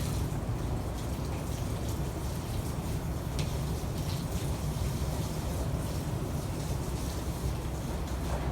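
Steady, dense hiss of water spraying onto plants inside a hot greenhouse, continuous and even throughout with no pauses, close by and fairly loud.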